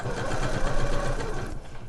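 A sewing machine runs continuously, stitching the seam of a fabric slipper boot with a fast, even whirring hum that cuts off near the end.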